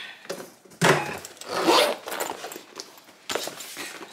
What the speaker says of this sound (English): Zipping it up.